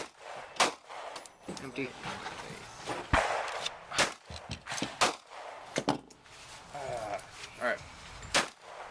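Gunshots at an outdoor shooting range, sharp cracks scattered irregularly among rustling and handling noise, with people talking close by between the shots.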